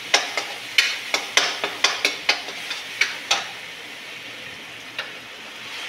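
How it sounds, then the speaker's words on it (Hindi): Eggplant and chillies with salt roast in a pan for baingan bharta, while a utensil taps and knocks against the pan in a quick, irregular series of sharp clicks over a faint background sizzle. No one speaks. "मैं बना रही हूँ बैंगन का भरता और मिर्ची, इनको भी अच्छे से भून ले रहे हैं"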